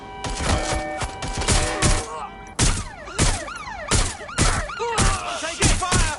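Repeated gunfire bursts in the video game Watch Dogs Legion, loud sharp shots in clusters across the whole stretch, mixed with game sound effects and shouted voices.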